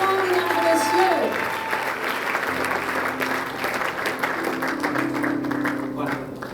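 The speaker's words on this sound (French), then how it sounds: "un applaudissement, mesdames et messieurs" An audience claps steadily to welcome a pastor on stage, a dense, even wash of applause lasting several seconds, with a voice and faint music underneath.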